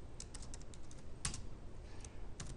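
Fingers typing on a computer keyboard, a quick irregular patter of soft clicks close by, alone without speech.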